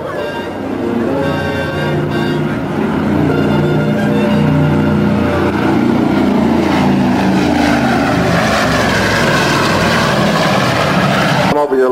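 A P-51 Mustang fighter flying escort above the B-29 bomber FIFI at Randolph AFB, its steady propeller-engine drone loud and continuous throughout, with someone narrating over the engine noise.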